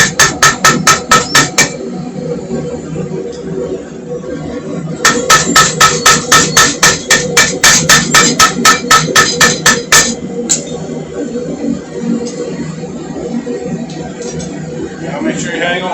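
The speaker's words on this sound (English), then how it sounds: "Switch to a different hammer for not so heavy." Rapid metallic hammer blows ring out in two quick bursts, loud and rhythmic, as hot metal for a bottle opener is struck on an anvil with a lighter hammer, with scattered taps between.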